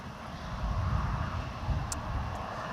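Mitsubishi CRJ900 regional jet on a crosswind approach to Amsterdam Schiphol's Polderbaan runway 18R, a low, moderately loud engine rumble with wind noise that swells slightly and then holds steady.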